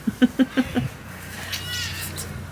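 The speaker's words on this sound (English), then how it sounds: "That was just a bit of a squeak from the cat." A pet cat gives a run of five short squeaky meows in quick succession, fairly close, followed by quiet room noise with faint background sounds.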